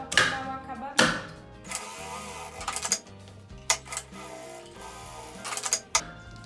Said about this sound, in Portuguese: Agora nós vamos rebater a costura aqui. Um pezinho de máquina, só para dar o acabamento